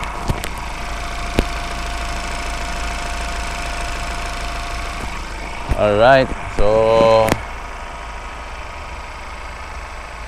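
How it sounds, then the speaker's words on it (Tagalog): A 2019 Ford Raptor's engine idles at a steady, even rumble. Someone speaks briefly over it partway through. "Po yung tunog ng makina."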